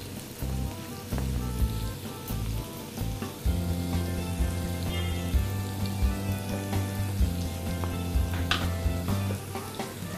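Steady sizzling and frying in a pan with scraping and clattering stirring sounds, loud and continuous, no voices.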